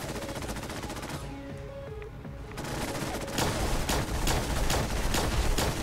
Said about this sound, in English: I guess I could try my plasma rifle.